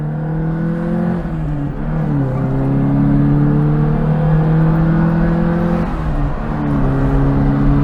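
An Alfa Romeo Alfasud Sprint Veloce accelerates from 0 to 100 on a country road, its engine droning and climbing in pitch through the gears, with brief dips at each of two or three upshifts, heard from inside the car.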